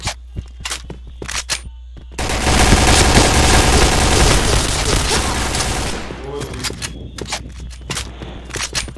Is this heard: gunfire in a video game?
yes